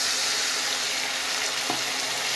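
Spice masala with turmeric and cumin powder sizzles in a pan with water, a continuous bright hiss of frying heard close up without talk.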